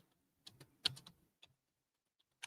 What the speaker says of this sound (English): I'm going to type it in here.